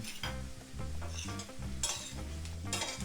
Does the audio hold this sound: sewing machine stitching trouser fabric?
no